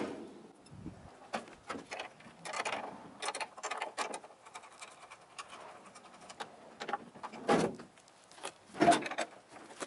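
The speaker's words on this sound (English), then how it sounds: "we'll pull the door off." Close-up clunks, creaks and sharp snaps as a door is pulled off a 1970 VW Type III Squareback, with irregular bursts of mechanical rattling and pauses between.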